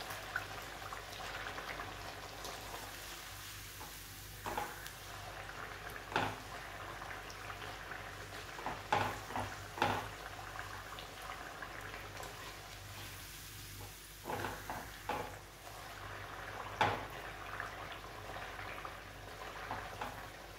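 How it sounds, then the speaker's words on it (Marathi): Methi puris deep-fry in oil with a low, continuous bubbling hiss and occasional louder pops and crackles, faint and close, with no talking. "अशी लालसर होईपर्यंत त्याला तळून घ्यायचं"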